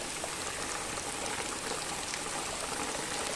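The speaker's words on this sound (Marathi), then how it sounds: "रोज कंटिन्यू आणि मुसळधार पाऊस पडतोय" Heavy unseasonal May downpour pouring steadily, a dense, even hiss of rain that fills the whole stretch without pause.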